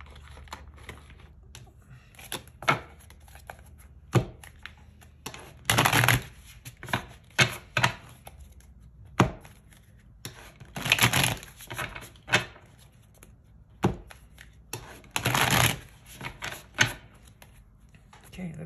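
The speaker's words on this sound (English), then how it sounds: "I'm just going to shuffle the cards." Tarot cards being shuffled by hand in repeated bursts of riffling and slapping, each lasting about a second, separated by short pauses and isolated taps; the shuffling is close and fairly crisp, with speaking in between.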